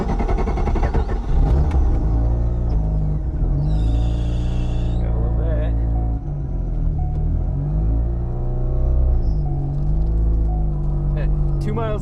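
A race car engine accelerating from 0 to 60, with a loud, steady rumbling drone that rises and holds, dips briefly, then builds again, continuous throughout with faint voices over it.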